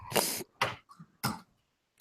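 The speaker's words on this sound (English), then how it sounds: "just coughed up a fucking lung" A person coughs three times in quick, harsh, close bursts, followed by a short pause and a final brief cough.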